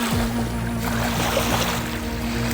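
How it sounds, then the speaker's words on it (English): Small waves lapping a pebbled lake shoreline near Queenstown, a steady washing wash with a constant low engine-like hum beneath, no distinct breaks and no speech. "Little waves on the pebbled shoreline."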